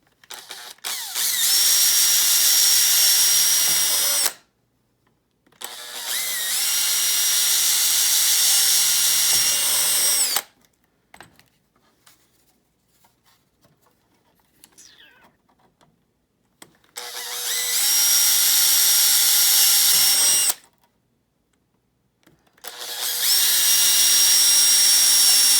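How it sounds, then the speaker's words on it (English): A power drill whines at high speed in four separate bursts, drilling number 40 (3/32-inch) holes on a Freewing Cougar turbine conversion, each a few seconds long, with short quiet gaps between them. "drill a number 40 hole or a 3/32, whatever you got."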